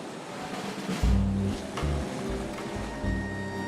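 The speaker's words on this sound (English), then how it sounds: "At the beach in Punta del Este, the sea is rough." Rough sea at a Punta del Este beach with a storm coming, a broad, steady wash of surf rolling on, while a low engine-like hum drones underneath.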